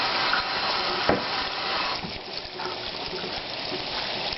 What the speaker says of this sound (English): I gotta add more water.